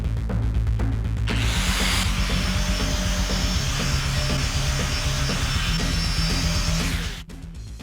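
Steady whirring drone of an electric polisher buffing wood with a cardboard pad at 1200 grit in a workshop, running continuously and loud for about seven seconds before cutting off.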